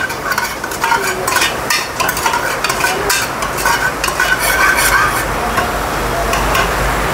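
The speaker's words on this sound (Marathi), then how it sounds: "तेलामध्ये फ्राय करून घ्यायचा।" Raw onion with garlic cloves frying in oil in a pan, loud continuous sizzling with frequent spoon scrapes and stirs throughout, up close and with no talk.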